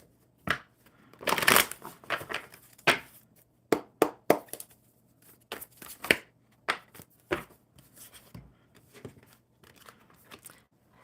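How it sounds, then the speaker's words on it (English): Tarot cards are shuffled in repeated crisp riffling bursts and slaps, close up, with short pauses between shuffles and no talking. "One more good shuffle for Jimmy"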